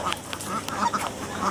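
Ducks quack in short bursts on a poultry farm where chickens are also raised, several calls spread across a moment over steady farmyard background noise, fairly close and with no talking.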